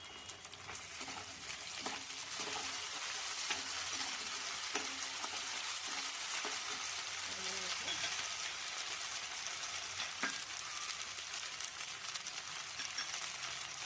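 Onions browning with ginger-garlic paste fry in a pan, a steady broad sizzle running throughout with occasional light scrapes of stirring, moderately close and even in level.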